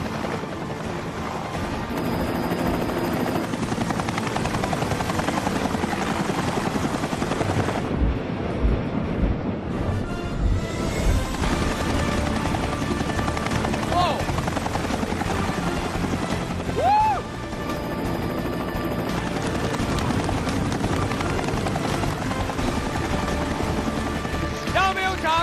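A helicopter landing close by, a loud, steady rotor roar mixed with heavy wind buffeting that fills the whole stretch without a break, and voices come through faintly under the noise.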